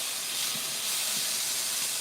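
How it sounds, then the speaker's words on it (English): Garlic sautés in hot oil with tomato, giving a broad, even hiss of sizzling close by, with a couple of soft low bumps beneath it. "I'm going to add in a little bit of garlic to our oil and tomato over here. I'll let this kind of saute up."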